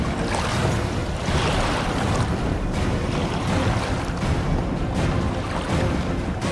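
A boat sails across open water in The Witcher 2 video game, a steady, dense wash of waves and wind rushing continuously with no breaks.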